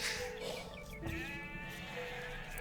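Sheep bleat in Age of Empires II, a few soft wavering calls over quiet game ambience at low volume.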